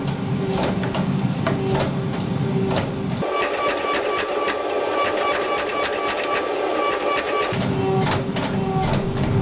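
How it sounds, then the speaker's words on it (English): Hot steel billet pressed on a hydraulic press, a steady loud mechanical hum with rapid regular clicking, and the low rumble drops out briefly mid-way before returning. "once the billet's out, I'll start forging it down using the hydraulic press"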